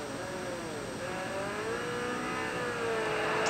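A car fitted with a big centrifugal supercharger launches at the drag track, a steady rising whine over engine roar that swells gradually and stays loud and continuous.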